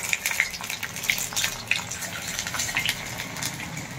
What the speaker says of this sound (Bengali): ওটা এখন আমি ফ্রাই করছি।